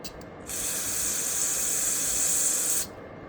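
Carb cleaner spraying in one steady, forceful hissing burst of about two seconds onto the carburetor of an Echo leaf blower, close and loud, with no talking.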